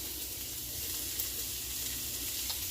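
Vegetables sauté in a pan over medium heat for cornbread stuffing, a steady close sizzle and crackle that continues without a break and with no talking.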